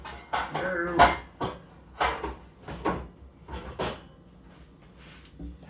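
A metal half sheet baking tray is handled in a kitchen, giving a series of sharp clanks and scrapes in an uneven rhythm, close and fairly loud, with a voice speaking briefly among them.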